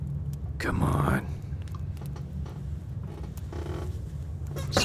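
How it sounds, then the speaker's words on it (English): A creaky chair gives a loud close creak and groan as someone shifts in it, followed by softer intermittent creaks against a low background hum and faint muttering. "Sorry, I got a creaky chair."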